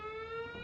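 Alarm tone from the Sound Off app, a steady sustained electronic ring with a strong harmonic stack, held level and fairly loud for under a second with no voices.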